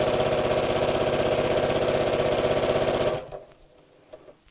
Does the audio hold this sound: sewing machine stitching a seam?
yes